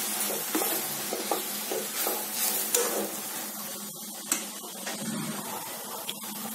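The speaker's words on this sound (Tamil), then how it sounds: "மசாலா எல்லா பக்கமும் வர்ற மாதிரி போட்டு நல்லா வதக்கி விட்டுக்கலாம்." Soya chunks (meal maker) are sautéed with masala in a pan for a kurma. A continuous sizzle is broken by repeated stirring scrapes and light utensil knocks against the pan, close and fairly loud, with no talking.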